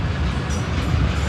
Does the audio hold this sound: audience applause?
no